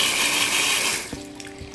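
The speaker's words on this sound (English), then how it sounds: "And now water is coming out of that hose." Water gushing from a hose in a home setting, a loud broad rush for about a second that suddenly cuts to a quieter trickle with faint clicks.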